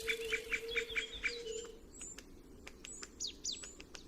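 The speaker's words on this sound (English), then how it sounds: "As soon as they grow up a little, they start chirping incessantly" Great spotted woodpecker chicks chirp from inside a tree hollow, first a fast run of loud, rhythmic repeated calls, then scattered sharp, high chips over a soft forest background.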